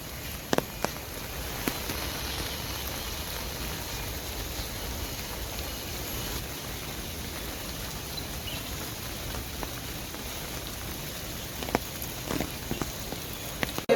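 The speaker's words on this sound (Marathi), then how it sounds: "रिमझिम पडणारो पाऊस" Light drizzling rain in a misty Konkan village in Sindhudurg, a faint, steady patter of fine drops with a few sharper isolated ticks, no voices.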